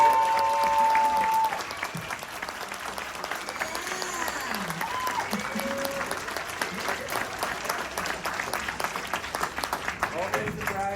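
An audience breaks into sustained applause, steady and full for several seconds, with a brief voice at the very start.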